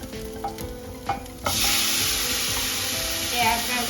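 Tomatoes hit a very hot pan and break into a sudden, loud, continuous sizzle of frying that carries steadily on, with a few faint clinks before it starts.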